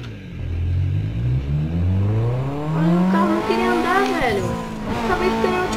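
Race cars in Need for Speed Underground 2, one tuned and one stock, during a race: loud engines rev with climbing pitch and shift, overlapping with other cars roaring close by.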